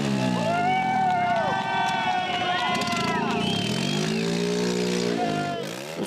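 A homemade trike with a loud exhaust rides by, its engine droning and shifting pitch continuously as it accelerates and eases off, close and fairly loud throughout.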